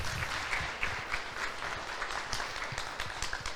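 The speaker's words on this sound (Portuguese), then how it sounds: "Aplauda o Senhor por isso." A church congregation applauds during a sermon, a steady wash of many hands clapping at close range that fills the whole stretch without letting up, with no voices cutting through.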